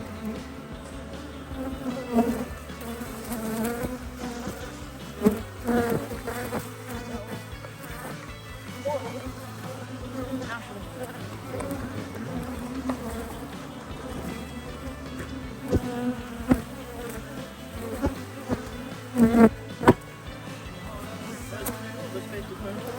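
Honeybees buzz steadily around an open beehive during a beekeeping lesson, a continuous insect hum running throughout with people talking over it.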